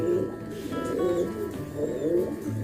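Pigeons, an old pair of red-necked Surkh Bajre birds kept by a fancier, coo in repeated soft, throaty phrases close by, with a faint voice murmuring behind.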